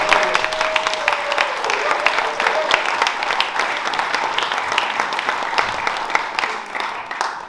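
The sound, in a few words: audience applause for Paula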